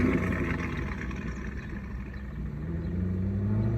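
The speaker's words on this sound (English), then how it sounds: "That car motor sounded nasty." A car motor with a rough, nasty tone rumbles close by, its low engine drone rising in pitch toward the end as it revs up, steady and alone without speech.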